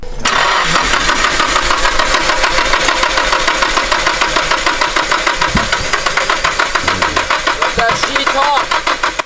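A two-stroke engine is cranked over and over, a loud rapid rhythmic chugging from a starter that keeps turning without catching, close by, with people speaking over it.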